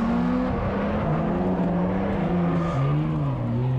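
A BMW M3 race car engine drones loud and steady on track at the Lone Star Bash, its tone rising and dipping through gear changes and throttle shifts with no voices over it.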